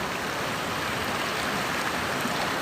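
Water rushes steadily at Sindanggila waterfall in Lombok, an unbroken, moderately loud hiss of flowing water with no speech.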